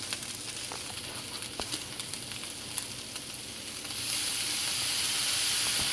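Chicken and vegetables sizzle in a stir fry on a Flame Thrower grill, a steady close hiss with scattered pops and stirring scrapes that swells louder and brighter near the end; no one speaks.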